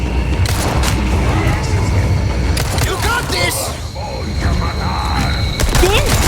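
Rapid gunfire from Resident Evil 4 Remake, sharp shots and booms crackling in dense bursts through a busy combat scene, with a voice talking over it.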